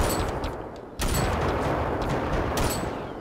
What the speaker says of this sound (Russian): Это, кажется, по мне стреляют.